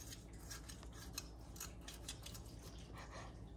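Sharp knife slicing through juicy Chinese-style roast pork: faint, quiet, repeated scraping and rasping strokes at an even rhythm against a low background hum.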